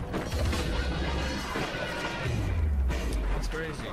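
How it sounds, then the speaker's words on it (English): A body crashes through glass during a Modern Warfare 3 match, a dense, loud smashing burst with mechanical clatter and booming game noise over nearly four seconds, with players talking throughout. "His body just fell through the glass."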